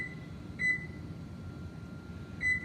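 Kitchen oven beeping while being set to preheat to 325, with two short electronic beeps about two seconds apart over a low background hum.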